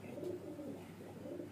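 A baby highflyer pigeon, restless and squirming while held in the hand, gives low, continuous cooing murmurs at close range.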